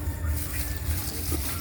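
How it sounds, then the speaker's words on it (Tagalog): Water pours steadily into a cooking pot while a home cook prepares a dish, a continuous splashing, gurgling stream heard close up for a short stretch. "At yung Lagyan na po natin ng tubig."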